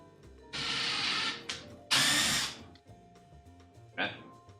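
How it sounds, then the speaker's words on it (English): A power drill pre-drilling two holes in lumber while building a lumber storage rack: two loud whirring bursts, the second briefly stronger, then a short final burst, with quiet workshop noise between them. "drill and pre-drill 2 holes"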